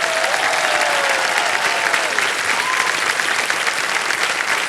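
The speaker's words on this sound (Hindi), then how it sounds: "इतनी जोर से जनता ने ताली बजाई।" A studio audience at a television quiz show claps loudly and without a break, dense and sustained, with faint voices rising over the applause.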